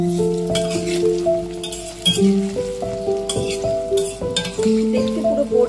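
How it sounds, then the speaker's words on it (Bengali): Poppy seed fritters fry on a low flame with a soft, steady sizzle, broken by clinks and scrapes of a utensil against the pan, while tonal background music plays throughout. "লো ফ্লেমে বড়াগুলো ভাজবে।"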